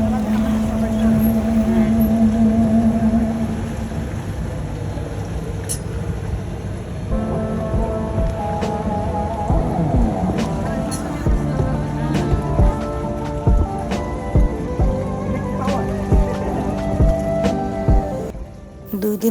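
Small boat carrying four people at a resort in Bogura, its motor churning over the water beneath steady rushing noise and scattered splashes, with people talking throughout.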